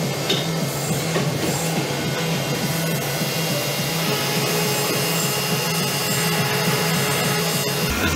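Steady, continuous milling machine noise facing a metal saw vise base, with a low hum and grinding, rasping texture, holding an even level throughout with no talking.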